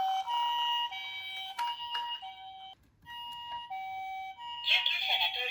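An Anpanman toy ambulance minicar plays its electronic siren, a bright, close two-tone melody that steps between pitches and repeats, with a brief dip before resuming loudly.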